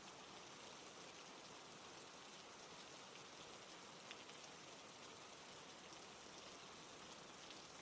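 Steady rain falling on surfaces, a dense even hiss of countless drops with scattered louder patters, continuous and unbroken, no voices.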